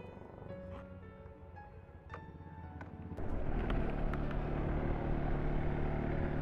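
Motorbike ridden along an extreme, almost off-road mountain road between Dumre and Besishahar; a steady engine rumble churns throughout, then grows noticeably louder and rougher about halfway through, with no talking.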